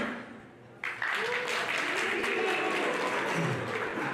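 An audience at a business forum rises to applaud and shout, sustained dense clapping with cheers that swells in abruptly after a brief quieter moment and holds loud and steady throughout.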